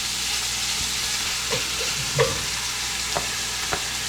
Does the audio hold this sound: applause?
no